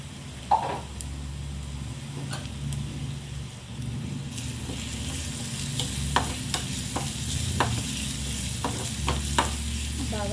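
Finely chopped garlic frying in butter for cheesy garlic bread, a steady close sizzle that brightens midway, punctuated by quick scraping stirs and light clicks of a spoon, over a low background hum.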